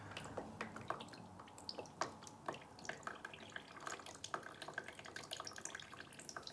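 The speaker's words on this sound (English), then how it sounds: "I'm giving her a really, really good soak" Water drips and patters into a potted plant being given a thorough soak, a quiet, irregular run of small splashes and trickles, close by, with no voices.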